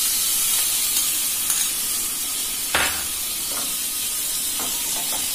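Stuffing dropped into hot mustard oil in a nonstick pan, giving a steady, loud hiss of frying that runs unbroken, with a few soft knocks of a spoon against the pan and no voices.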